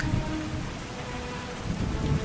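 Heavy rain pours steadily in a visual novel game scene, with low rumbling thunder swelling at the start and again near the end, loud and continuous with no voices.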